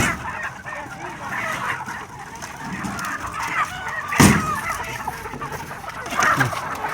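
Chickens brought by a Lao trader to a border crossing cluck and squawk amid the busy market bustle, with a sharp loud call near the middle and background voices and activity throughout.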